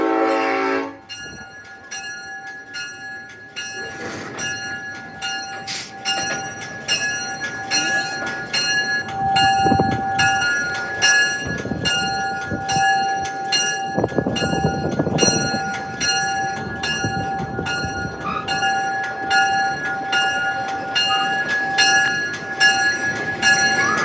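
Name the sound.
train passing with horn at railway museum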